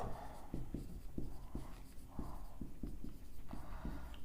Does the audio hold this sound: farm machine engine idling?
no